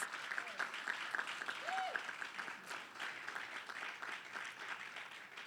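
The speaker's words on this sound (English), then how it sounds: "Please give them a round of applause." An audience at a live community announcement event applauds steadily, dense clapping heard at a moderate distance with scattered voices and a brief whistle-like tone.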